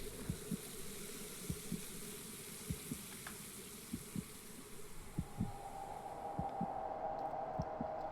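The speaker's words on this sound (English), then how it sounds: "Heartbeat." A slow, muffled heartbeat from the game Impostor Factory thumps in even double beats under a hissing ambient drone, and a low hum swells near the end.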